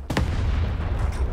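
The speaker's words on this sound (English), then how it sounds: "When I say fire, you fire the gun." A tank gun fires at a tank battle event in Leicestershire: one loud, close blast at the start, followed by a long rumbling echo and a heavy low roar.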